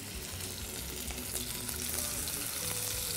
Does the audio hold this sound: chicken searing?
yes